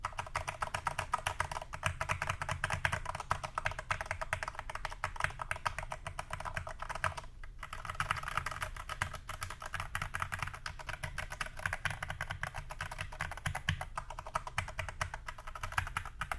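Steady typing on an iLovBee i61 mechanical keyboard with a tape mod, a rapid, continuous patter of muted, thocky keystrokes heard up close for over fifteen seconds with one brief pause midway.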